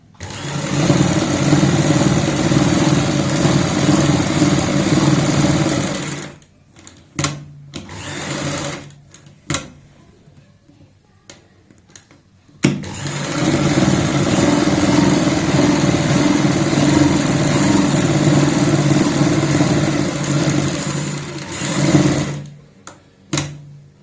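A sewing machine runs in long steady bursts of rapid stitching, stopping briefly in the middle before starting up again, loud and close.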